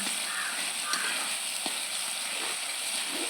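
Tomato puree sautés in oil in a pan with onion for a paneer masala, a soft continuous sizzle with a few faint stirring taps underneath.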